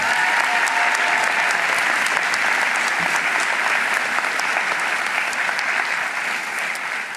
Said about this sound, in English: Let's give the stage party a round of applause